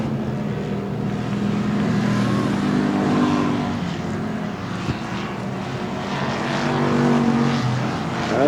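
Pure stock race cars roar around a dirt oval at Texana Raceway Park in a qualifying heat, their engines droning loud and continuous, rising and falling as the pack passes.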